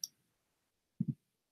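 A computer mouse gives a faint single click, then a moment later a quick close double click, crisp and isolated in an otherwise silent room.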